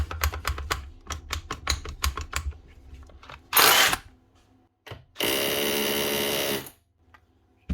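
A DeWalt DCH033 SDS rotary hammer drill, in for repair with a bit that won't stay in the chuck, is handled with light clicks and taps, then runs and hammers in a short burst followed by a longer loud, rattling run.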